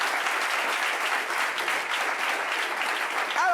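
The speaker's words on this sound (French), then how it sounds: "On peut l'applaudir très fort." A French talk-show studio audience applauds a guest with a continuous, even roar of many hands clapping, sustained at a moderate level throughout.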